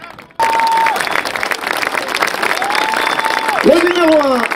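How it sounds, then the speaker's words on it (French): Spectators at the 2014 FIP European Championship polo final applaud in a loud, steady wash of clapping that starts abruptly and holds throughout, with an announcer's voice carrying over the crowd. "allez, derniers applaudissements"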